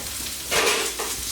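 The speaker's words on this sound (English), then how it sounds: "we fry these off in the oil" Vegetables frying in hot oil give a steady sizzle that swells louder for a moment, then settles back to a soft, even crackle, close by with no talking.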